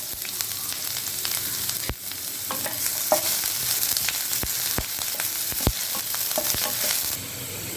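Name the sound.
chopped ginger and garlic frying in hot pan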